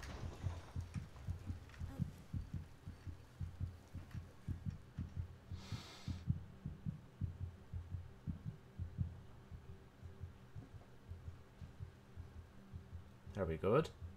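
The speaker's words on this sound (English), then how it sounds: "The heartbeat's going up." A rising heartbeat from the horror game Among the Sleep thumps in a steady low pulse throughout, with faint game ambience and a brief burst of noise midway.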